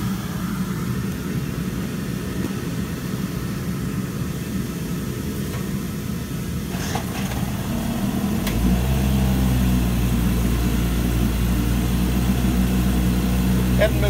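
An Evinrude 3 folding outboard motor starts on the first pull after a priming sound, then settles into a loud, steady running drone that holds to the end.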